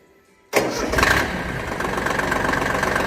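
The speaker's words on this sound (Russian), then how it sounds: "Трактор запускается" After a short quiet moment, a Shibaura SP1740 Japanese mini tractor engine cranks and catches, then settles into a loud, steady idle nearby.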